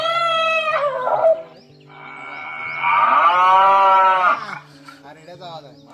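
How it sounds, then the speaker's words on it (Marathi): A recorded male buffalo bellow plays through a Bluetooth speaker, two long loud moaning calls with a short gap between them, steady hum underneath and no talk. "हा रेड्याचा आवाज आहे."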